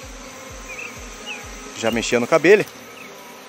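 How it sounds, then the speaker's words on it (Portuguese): A honeybee swarm hums constantly during an outdoor honey harvest, with low thuds at the start and someone speaking Portuguese over the drone midway. "Abelha graúda, abelha forte, bonita."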